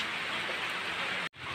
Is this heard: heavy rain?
yes